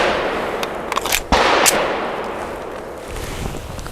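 A Grand Power P1 Ultra pistol fires PPU 158 grain subsonic rounds outdoors, two sharp close reports about a second apart, each followed by a brief fading echo.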